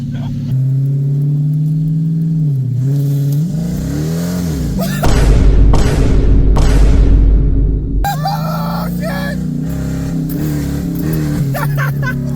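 A Dodge Challenger with a modified exhaust idles with a deep rumble, then barks through several sharp, loud revs in quick succession before settling back to a throaty idle, recorded close by.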